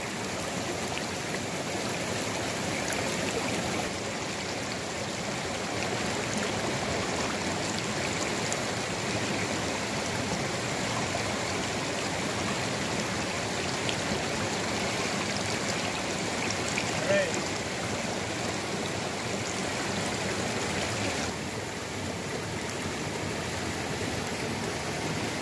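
Cold creek water fed by snow melt rushes steadily in a continuous broadband flow, close and fairly loud, with people talking faintly now and then.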